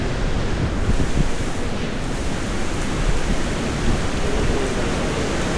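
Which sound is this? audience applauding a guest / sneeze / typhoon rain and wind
typhoon rain and wind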